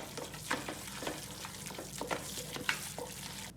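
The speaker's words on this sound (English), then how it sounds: "add your drained bread to your meat mixture, and you want to stir it very well so that you see none of this whiteness in it" A spoon stirs a bread and minced meat mixture cooking for bobotie in a pan, giving repeated scraping strokes over a soft, steady sizzle, close and fairly quiet.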